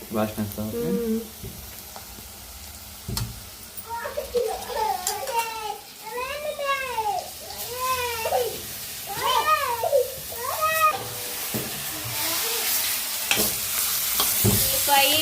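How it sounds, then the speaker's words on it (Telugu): Chicken pieces stirred with turmeric in a pan give a close sizzle and scraping, while a high wailing cat-like or child's cry rises and falls over the middle stretch and voices murmur underneath. "పసుపు మొత్తం చికెన్ ముక్కలు పట్టేంత వరకు బాగా కలిపి"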